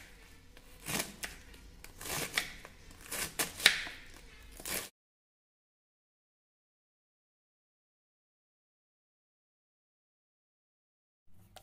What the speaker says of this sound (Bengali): আমরা এখন এগুলিকে খুব ভালো করে চপড করে নেব